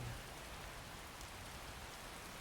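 Steady rain falling in the Skyrim video game, a faint, even hiss of drops on surfaces that continues without pause.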